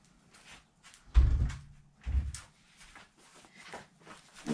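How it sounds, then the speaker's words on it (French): Two dull thumps of a door being pushed shut indoors, one heavier blow followed by a second about a second later, with faint room noise and rustling between them. "je vais fermer la porte parce qu'il y a beaucoup de bruit"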